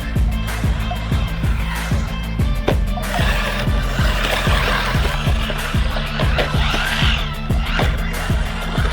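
A small SG1610 Pinecone 1/16-scale RC drift truck runs nearby with a continuous electric motor whine, rising and falling with throttle, broken by rapid rhythmic ticking and clattering as it bounces over the surface.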